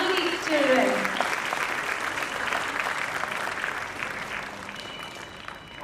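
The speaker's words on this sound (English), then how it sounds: "I think it really calls for a huge round of applause to all these lovely children." An audience applauds the children after a ballet show, a steady round of clapping that swells at the start, then holds and slowly thins, with a brief voice near the beginning.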